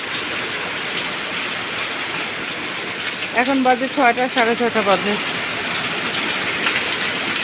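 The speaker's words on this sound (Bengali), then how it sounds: "এই যে দিনাজপুর শহরে বৃষ্টি শুরু হয়ে গেছে আমাদের।" Steady rain falling on the town of Dinajpur, a continuous hiss of drops heard nearby, with a person speaking briefly over it midway.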